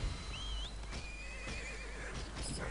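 A horse mount in the ArcheAge online game neighs and whinnies in rising, wavering calls, close and fairly loud over a steady game background with no talk.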